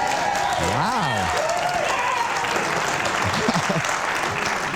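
A studio audience on a late-night show claps together, a dense continuous wash of applause, with loud, sustained speech and cheering from hosts over it.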